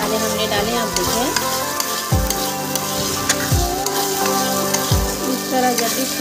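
Whole spices sizzling and frying in hot oil in a pan for a chickpea curry, a continuous crackling hiss with occasional stirring knocks, close and loud.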